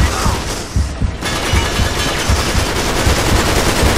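Automatic gunfire in the video game Uncharted 3, with dense, loud bursts that rattle on almost nonstop for the whole stretch.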